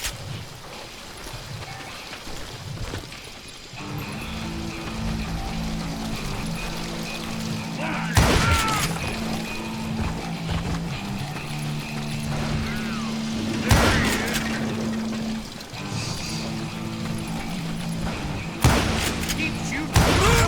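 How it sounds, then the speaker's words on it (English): Gunfire in the cowboy shooter game Call of Juarez: Gunslinger, loud repeated shots bursting over a steady game soundtrack, with someone talking excitedly throughout. "Keep shooting!"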